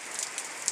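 Light rain falling on a Sunday morning, a faint steady hiss of drops with a few soft individual taps standing out.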